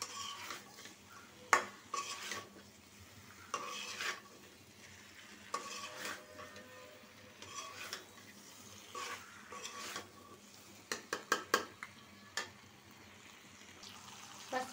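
Chicken for a spicy potato curry is stirred and sautéed in an oily wok, a soft sizzle running underneath while a spatula scrapes and clinks against the pan in irregular bursts, several sharp taps standing out.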